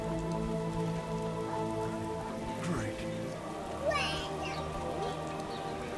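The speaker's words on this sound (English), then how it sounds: "It's raining." Steady rain falls across the scene in The Witcher video game, a constant soft patter behind faint droning music and an occasional brief voice, with no talk over it.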